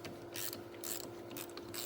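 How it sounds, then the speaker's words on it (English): A socket wrench ratchets in quick bursts of clicking on a Subaru's 10 mm car battery terminal, each short burst close and crisp, though quiet overall. "You can use a socket, open end, box end wrench, crescent wrench to get these off."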